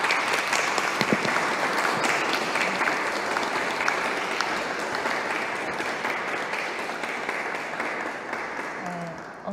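Audience at an indoor men's church workshop applauding steadily, a dense, even roar of many hands that carries on for nearly ten seconds and fades slightly toward the end.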